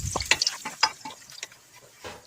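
Rock sugar, ginger slices and garlic cloves fry in hot oil in a wok over medium heat, giving light scattered sizzles with soft clinks and stirring scrapes close by.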